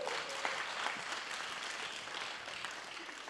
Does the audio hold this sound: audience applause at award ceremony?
yes